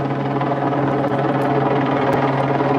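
Helicopter filming a sailing race start at sea, a steady, loud droning rotor and engine hum that runs continuously with no speech.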